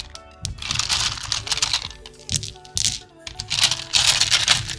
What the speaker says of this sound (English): let's put some dice in there.